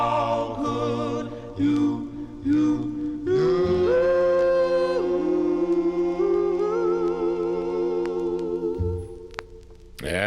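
A 1962 doo-wop ballad plays from a vinyl 45, with lead vocal and group harmonies over a slow backing, ending on a sustained closing chord.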